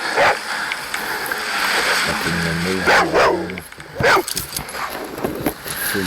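A dog barks in a few sharp, loud bursts close by, mixed with talking voices and outdoor background noise.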